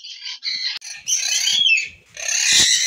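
Monk parakeets at a breeding farm let out a string of harsh, raspy squawks and chattering calls, loud and close, with short gaps between bursts.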